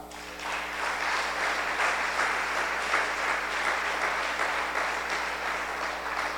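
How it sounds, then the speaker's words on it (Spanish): A church congregation claps together during a service, steady continuous applause that rises quickly and holds at an even level, moderately near. "Vamos a darle un aplauso."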